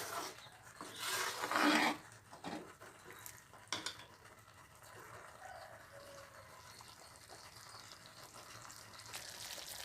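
Tamil citrus-fruit curry bubbles and sizzles in a pan, with a louder burst of hissing early on that settles into a steady, soft simmer.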